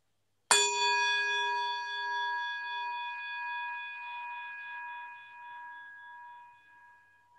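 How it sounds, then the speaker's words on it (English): A singing bowl at a church worship service is struck once, giving a clear bright strike followed by a long, pure ringing tone with steady overtones that slowly fades over several seconds, no voices. "We will continue our worship with the ringing of the singing bowl"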